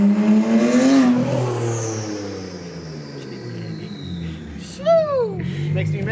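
A Mercedes CLS63 AMG with straight-pipe exhaust from the turbos back revs loudly up and then falls away in a deep, rising-and-falling engine roar, heard up close with a person talking over it.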